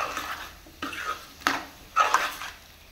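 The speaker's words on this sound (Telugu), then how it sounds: "కారం, ఉప్పు వేసిన తర్వాత మంచిగా కలిసేటట్టు" Chili powder and salt being stirred into taro pieces in a pan, heard as a few close scraping and clinking strokes of a spoon against the pot over a soft background hiss.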